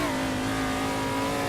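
A car engine holds a steady, strained drone while driving fast through the sweeping back section of a race track, a continuous close tone with no pauses.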